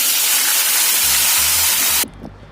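Sliced onion dropped into hot oil with cinnamon, cardamom and cloves for an all-purpose gravy, a loud, close, steady sizzling hiss that cuts off sharply after two seconds, leaving faint low kitchen noise.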